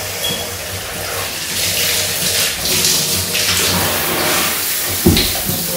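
Water splashes and runs in a bathtub filled with hot water as someone washes their face, a steady close rushing with sloshing swells and a sharper splash near the end, with no voices.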